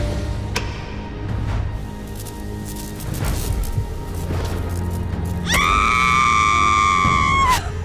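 A woman lets out a loud, sustained scream lasting about two seconds near the end, rising then falling in pitch, as a sound effect in a Hindi vampire story, following quieter rumbling background noise.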